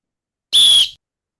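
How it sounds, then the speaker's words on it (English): One short, shrill whistle blast sounds alone, piercing and loud, lasting under half a second against silence. "Jugsy, blow your silent whistle, please."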